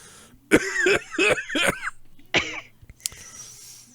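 Several harsh coughs from a person with a cold in a rapid burst, then a single cough a moment later and a short breathy rasp, close and loud with no talking.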